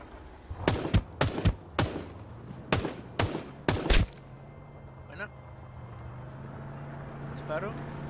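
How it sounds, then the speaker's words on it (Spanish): A rapid series of sharp gunshots in quick bursts from the video game Ring of Elysium, loud and close, then quieter scattered pops over a steady low hum with a voice talking. "Disparo sonó cerca."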